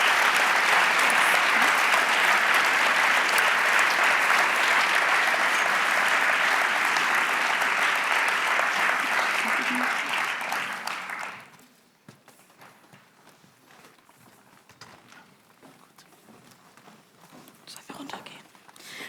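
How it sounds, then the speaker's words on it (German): An audience at a university public lecture on dreams and sleep gives loud, sustained applause that stops abruptly, followed by quiet room murmur and shuffling footsteps. "Und einen großen Applaus"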